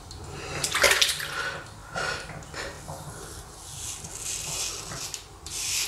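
A Philips OneBlade Core V2.0 razor glides over a face lathered with thick soap, making a few close, raspy strokes in short bursts separated by brief pauses.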